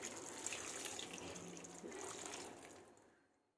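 Water is poured over wheat grains as they are washed by hand, a steady close splashing rush that lasts about three seconds and then fades out.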